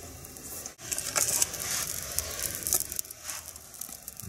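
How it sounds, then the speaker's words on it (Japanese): A wood-only campfire at a solo winter camp, giving a continuous close hiss with scattered sharp crackles and pops; no voices are heard. "今日はね、まあ、ゴミとか雨燃やさずに木だけにして燃やしてます"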